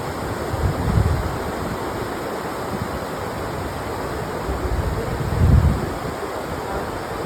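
The Tinipak River in Tanay, Rizal flows with a steady broadband rush, and two louder swells of water stand out over the constant noise. No voices are heard.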